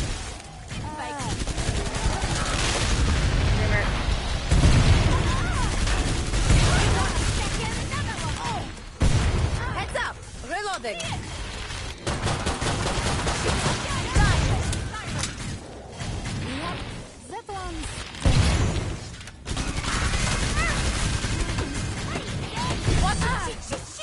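Dense gunfire in the video game Killing Floor 2: rapid shots, bursts and crashes pile up almost without pause over many seconds, loud throughout, with voices talking underneath.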